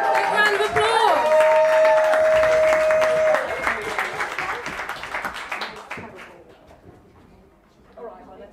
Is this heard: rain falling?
no